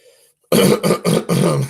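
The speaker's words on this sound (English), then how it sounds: "Let me clear my throat." Someone clears their throat close up, three or four forceful rasping bursts in quick succession after a brief quiet moment.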